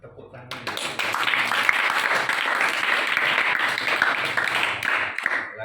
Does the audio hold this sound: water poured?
no